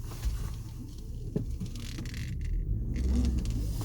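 A car pulls out of a parking spot at an abandoned mill, its engine a steady low rumble growing slightly louder, heard from inside the car with no speech.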